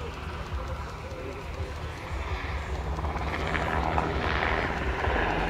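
A Slovak Air Force Sikorsky UH-60M Black Hawk helicopter flies at an air show, its rotor and turbine roar steady and building slightly louder, with a commentator talking over it.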